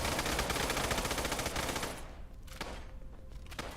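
Automatic gunfire in Fallout: London, a dense rapid burst of shots that fills the first two seconds, then gives way to scattered single reports and quieter fighting.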